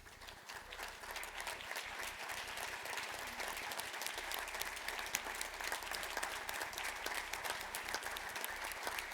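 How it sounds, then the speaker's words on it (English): A seated audience at a youth sports volunteer recognition event applauds past honorees as they stand, a dense, steady round of clapping sustained throughout at moderate distance with no talking over it. "I want you to stand up so we can give you a round of applause."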